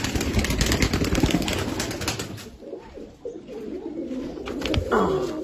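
Teddy pigeons coo in deep, burbling phrases close at hand, repeated and overlapping, with some rustling and a quieter moment midway.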